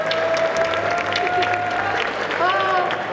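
A crowd claps at a video game competition, loud and sustained, while a voice speaks over the applause.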